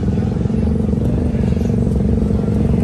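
Several motorcycles arriving at a group breakfast-ride meeting place in Tagaytay, a steady close engine rumble and idle lasting throughout with no break.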